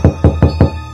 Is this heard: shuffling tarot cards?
no